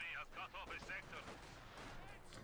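An anti-tank gun in Company of Heroes 2 fires a few quick, sharp reports in a short burst, fairly faint in the game mix, with voices talking over them.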